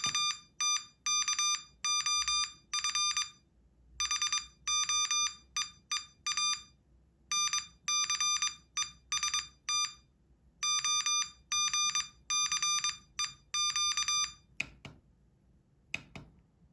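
Morse code practice tones from a MorseBOX trainer send random five-letter groups as crisp, steady beeps in rapid dot-dash bursts, separated by short gaps, close and clear with no talking.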